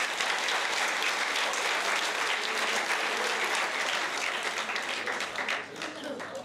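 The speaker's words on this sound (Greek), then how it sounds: "ένα θερμό χειροκρότημα για όλους αυτούς" Warm, sustained applause from a theatre audience for the crew behind an amateur stage production, dense steady clapping that thins out slightly near the end.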